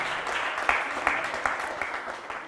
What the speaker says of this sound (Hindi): उनकी तालियों के द्वारा, करतल ध्वनि के द्वारा उनके दान की अनुमोदना करेंगे